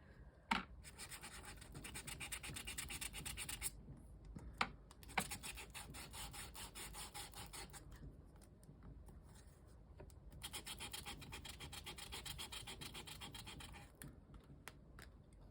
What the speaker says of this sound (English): And then I'm going to take the sanding disc